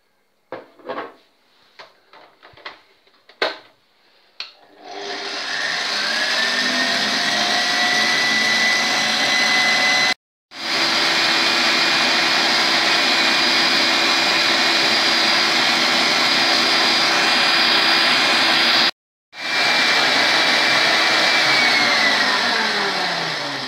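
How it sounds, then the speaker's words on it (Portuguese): Electric stand mixer whipping egg whites to stiff peaks for a canned peach cake, starting with a few clatters and knocks, then a steady loud whirring hum that runs for about twenty seconds, cut by two brief pauses. "Numa batedeira vamos colocar então as nossas claras para bater em castelo."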